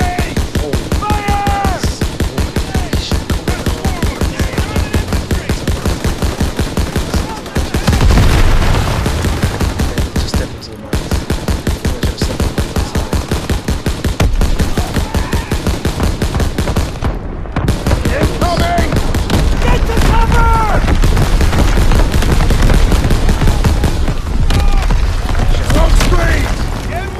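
Dense Call of Duty WWII battle gunfire in the Death Factory, with rapid machine-gun bursts and heavy booms hammering almost continuously at close range, broken only by brief gaps.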